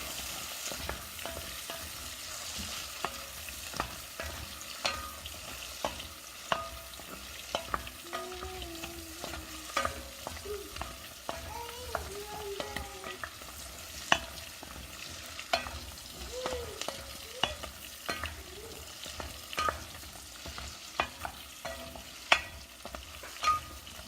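Garlic frying in oil in a pan for chicken Vesuvio, a soft steady sizzle broken by frequent scraping and clicking strokes of a utensil stirring it, close and fairly quiet, with no talking.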